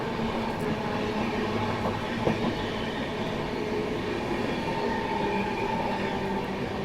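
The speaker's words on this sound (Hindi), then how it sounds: "देखिए फिलहाल अपनी ट्रेन राजपुरा जंक्शन को स्किप करने वाली है।" A Shree Shakti AC Express train runs through Rajpura Junction, a steady loud rumble of wheels and carriages heard from on board, with no talking.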